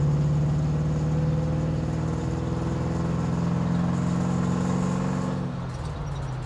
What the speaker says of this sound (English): The engine's got a good sound to it though.